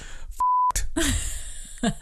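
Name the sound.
beep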